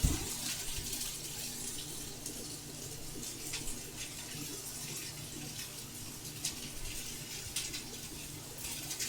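Water pours in a steady, faint trickle at a home kitchen counter, a continuous soft splashing with no talking over it.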